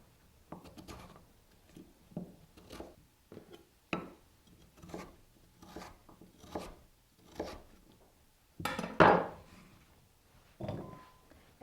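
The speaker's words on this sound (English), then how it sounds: "Okay, and again, half-inch slices." A knife cuts food into half-inch cross-cut slices on a board, giving a run of crisp, close chopping strokes at an uneven pace, with a louder scraping sweep near the end.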